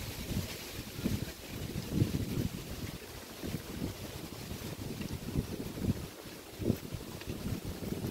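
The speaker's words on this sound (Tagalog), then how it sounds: "Ang lakas ng hangin, parang may bagyo" Strong gusting wind buffets the microphone in low, uneven rumbles, rising and falling over several seconds with no one speaking.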